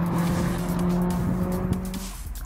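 Race cars in a racing simulator game roar past as a steady engine drone with tire squeal, close and loud, with no talk.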